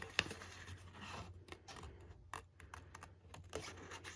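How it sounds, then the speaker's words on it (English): Sharp Stampin' Up scissors snip through paper for a handmade Valentine's Day card, giving quiet, close, irregular crisp cuts and rustles as the paper is turned. "I keep my cutting hand still and I turn the paper."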